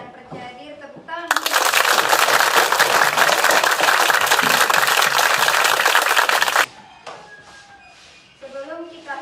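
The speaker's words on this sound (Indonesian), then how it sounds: "Tepuk tangan." A burst of group applause in a fourth-grade primary school class breaks out after some talk, lasting several seconds before cutting off, followed by quiet voices.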